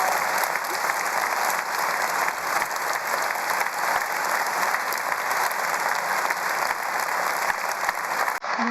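A crowd at an SNP rally marking ten years since the Scottish independence referendum claps loudly and without pause for nearly nine seconds, then stops abruptly at the end.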